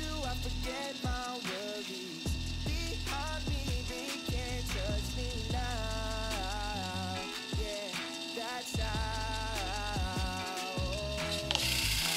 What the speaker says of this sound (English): But this is an inkless printer.